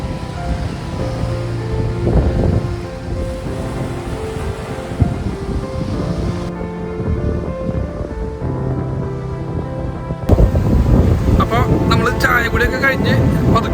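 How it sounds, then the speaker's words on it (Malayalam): Surf washing onto a beach shore in Lakshadweep, a steady broad wash of waves with wind buffeting the microphone, while people talk and music plays throughout. "അതും ലക്ഷദ്വീപിലെ ഈ ഒരു കടൽ തീരം ആസ്വദിച്ചുകൊണ്ട്"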